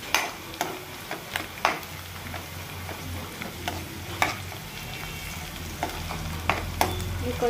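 Ingredients fry in a pan over a slow flame, a steady close sizzle broken by regular sharp clicks and taps of a spatula stirring.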